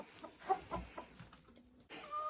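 Hens cluck in an unheated chicken coop, a few short soft calls in quick succession from close by, ending in a higher drawn-out squawk.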